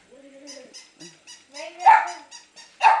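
A dog barks sharply a few times at a small puppy indoors, two loud yaps standing out near the end, with people talking softly around it.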